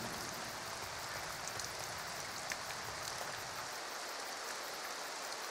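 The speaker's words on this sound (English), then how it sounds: "Oh, it's raining." Steady rain falls throughout a scene in the fantasy role-playing game Two Worlds Epic Edition, an even, close wash of patter with faint drips and no voices.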